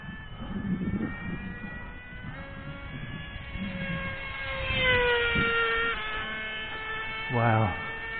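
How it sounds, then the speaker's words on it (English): Cox Tee Dee .051 model airplane engine on a tuned pipe in flight with its propeller fluttering at too high an RPM, a thin distant buzzing whine that rises and wavers in pitch, with a voice talking over it. "Oh wow, the prop just started fluttering. High speed flutter."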